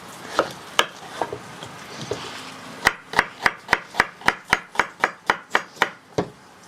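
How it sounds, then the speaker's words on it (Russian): A knife chopping onions on a cutting board, a few scattered strikes and then a steady run of about a dozen evenly spaced, crisp chops. "Володя, весь лук нарезаем."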